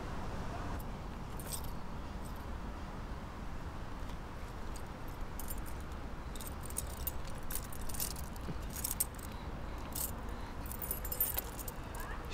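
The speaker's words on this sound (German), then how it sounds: "Schlüssel, ne?" Keys jangle and clink in short bright bursts against a low steady background hum, growing busier toward the end, with faint talk at times.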